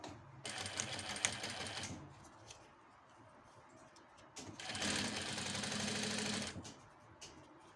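A sewing machine stitches the lining of a small Easter zippered pouch in two loud, steady runs, the first about one and a half seconds long and the second closer to two, separated by quieter handling noise.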